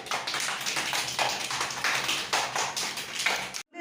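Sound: children clapping hands in a class quiz

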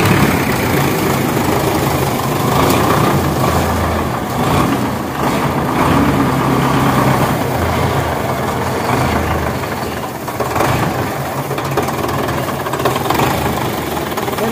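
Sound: tractor engine running

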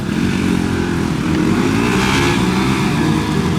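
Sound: Bajaj NS200 motorcycle engine

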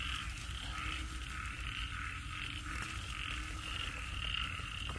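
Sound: frog croaking

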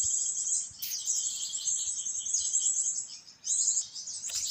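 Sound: birds calling in forest

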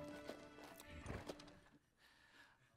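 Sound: horse hooves clip-clopping with wagon

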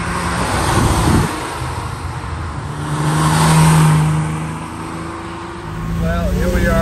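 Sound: 1966 Ferrari 330 GT 2+2 driving on a curvy road

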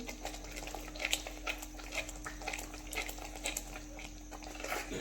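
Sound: stirring kaju masala gravy in pan

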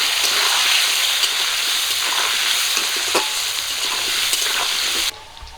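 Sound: frying potatoes with turmeric and salt in fish-frying oil

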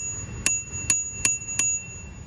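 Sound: Panasonic Hurryer e-bike bicycle bell

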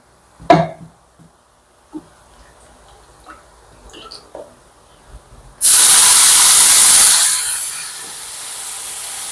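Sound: pouring tamarind water into hot sambar

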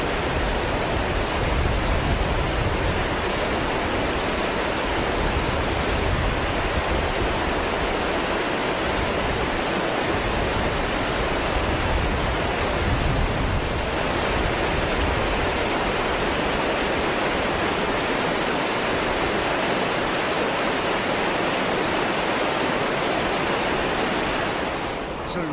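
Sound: rushing water of the Ara river near Broto

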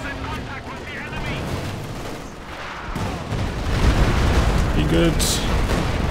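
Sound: Stuka barrage explosions and gunfire in video game Company of Heroes 2

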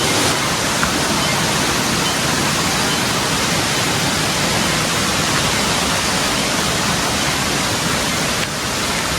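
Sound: flowing water and waterfall

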